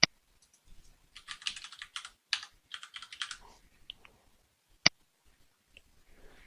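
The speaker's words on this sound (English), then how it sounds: "We'll type in our login credentials to gain access to our CyCon account." Login credentials are typed on a computer keyboard in quick bursts of close, crisp keystrokes, with a couple of louder isolated clicks and short pauses between runs.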